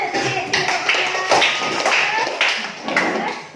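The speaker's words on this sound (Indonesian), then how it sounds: "Oke, tepuk tangan Bu." Classroom applause for a student group's presentation: a dense, steady patter of many hands clapping close by, mixed with some voices, running through without a clear break.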